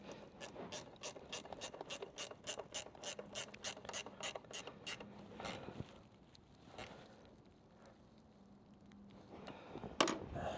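A ratchet wrench clicks rapidly and steadily while tightening a bolt on a bent trailer tail light housing, followed by a few slower, fainter clicks and a sharp metallic knock near the end.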